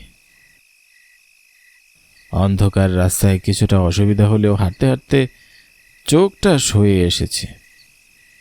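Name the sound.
crickets chirping at night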